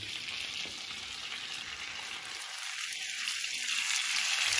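Pineapple pieces fry in a pan with a steady, close sizzle and crackle that runs the whole time, with a brief hollow rattle partway through.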